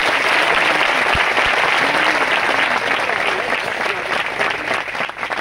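An assembled congregation at a devotional gathering claps together, a thick, continuous patter of many hands that thins slightly toward the end.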